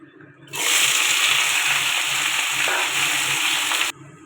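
Food dropped into hot oil in a kadai (wok) for a vegetarian dish bursts into a loud, close, hissing sizzle that holds steady for about three seconds and then cuts off abruptly, with no talk.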